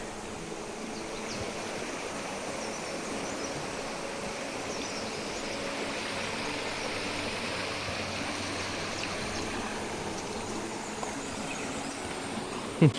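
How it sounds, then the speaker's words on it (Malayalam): A small waterfall tumbling down a stream outdoors gives a steady, even rush of splashing water that holds constant from start to finish, with no speech. "അവിടെ ആയിട്ട് ചെറിയൊരു വെള്ളച്ചാട്ടം പോലെ വെള്ളം ഇങ്ങനെ ചാടി ചാടി വരുന്നത് നിങ്ങൾ കാണുന്നുണ്ടാവും"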